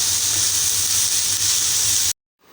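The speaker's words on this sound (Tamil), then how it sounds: "இப்போ இந்த காய்கறிகள் எல்லாமே கொஞ்சம் வதங்கட்டும்" Vegetables for veg fried rice sauté in a pan with a loud, even hiss of steam and sizzle that cuts off abruptly, leaving near silence.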